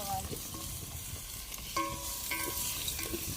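Ginger garlic paste and curry leaves fry in hot oil with a continuous close sizzle, while a spoon scrapes the pan in short strokes.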